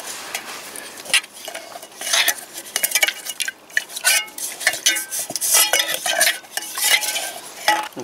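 A brush stirs and scrubs a Massey Ferguson 135 tractor air filter in a tray of diesel, giving irregular wet sloshing and scraping strokes with clinks against the container, close and fairly loud with no talk.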